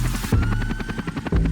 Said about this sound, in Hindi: बाबा ने हेलीकॉप्टर लैंड किया।